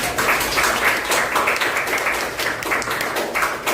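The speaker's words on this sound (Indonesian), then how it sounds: "Oke, gue tepuk tangan juga." A group of students claps together in a classroom during a sociology lesson, a steady close burst of applause lasting several seconds with no break.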